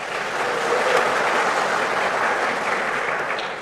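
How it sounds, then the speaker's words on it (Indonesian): Congregation at a church fellowship celebration for the men's group claps together, a dense, steady wash of applause holding evenly for a few seconds at moderate loudness. "Kita tepuk tangan dulu, tidak apa-apa."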